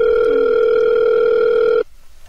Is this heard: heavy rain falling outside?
no